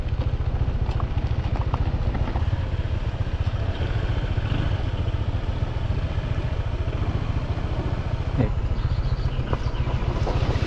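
An ATV engine runs on a rough rural road on the way to a waterfall, a steady, close, thrumming pulse with faint clatter from the bumpy ride throughout.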